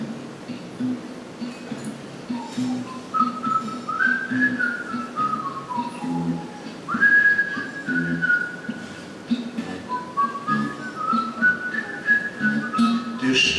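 A person whistles a melodic folk tune alone, clear and fairly close, the pitch sliding and stepping through phrases over a low steady background hum.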